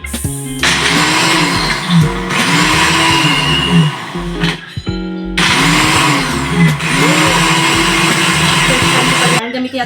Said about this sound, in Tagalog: Gamitin natin tong mixer